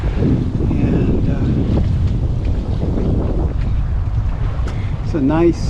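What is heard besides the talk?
wind while sailing a boat out of the harbor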